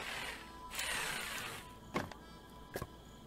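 Tree being cut down in the video game I Am Future, with a rough, grinding cutting noise followed by two sharp woody knocks, fairly faint against a steady background hum.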